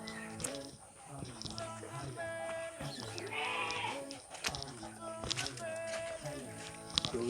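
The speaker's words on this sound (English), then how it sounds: "See, these are also sheep." Local sheep on a farm in The Gambia bleat nearby in several overlapping calls, with faint voices and light shuffling in the background.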